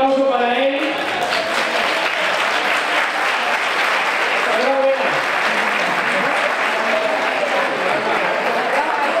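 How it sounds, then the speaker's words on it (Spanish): Steady applause from a crowd at a village fair in Ojén, honouring an elderly man at a seniors' lunch, loud and continuous throughout with faint voices underneath. "Fuerte aplauso para él."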